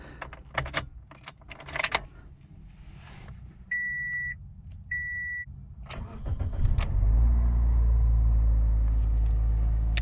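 A 2005 Toyota Corolla S starting fully cold on a 97-degree day: a few clicks and two electronic chime beeps, then the engine cranks, catches and settles into a loud, steady low idle rumble.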